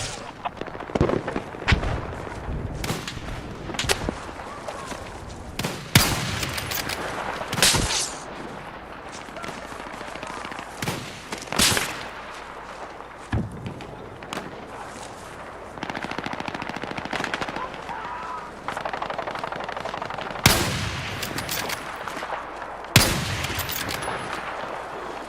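Bursts of automatic gunfire and heavy shots in the video game Battlefield 6 beta, loud cracks and rattling volleys scattered across the stretch with lulls between them, over a low battlefield rumble and game ambience.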